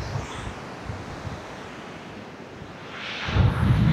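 Sea waves break on Kuakata beach, making a continuous broad wash with wind buffeting the microphone, and a louder surge of surf rises toward the end.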